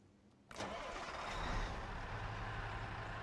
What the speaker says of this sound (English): So first thing we got to do is start our truck up.